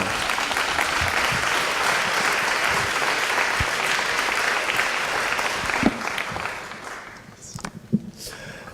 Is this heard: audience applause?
yes